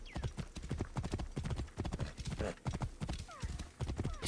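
In Assassin's Creed Origins, a horse's hooves clip-clop in a brisk, regular rhythm close by, with a neigh breaking through partway along.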